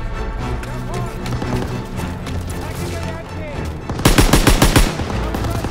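Call of Duty: WWII machine gun fire rattles through a battlefield mix, first under shouting and din, then a close, loud burst of rapid shots near the end.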